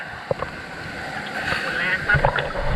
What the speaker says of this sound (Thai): น้ำแรงเลย ลึกอ่ะ